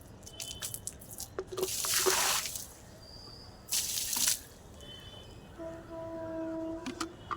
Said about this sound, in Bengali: জলটা এখানে ফেলে দিই